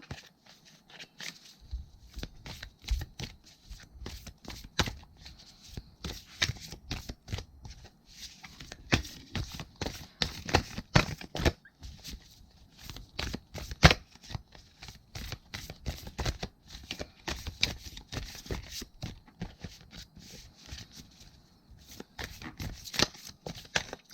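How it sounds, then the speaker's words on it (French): An oracle card deck is shuffled by hand in a run of soft, irregular riffling and tapping bursts that continue for a long stretch, quiet and close. "Je galère à le mélanger cet oracle"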